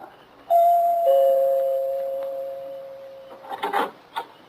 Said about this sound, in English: stopped a moment to look at the name on the door before I pressed the bell